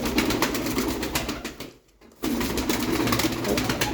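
Pakize pigeons coo softly in a steady low murmur at close range, pausing briefly before continuing.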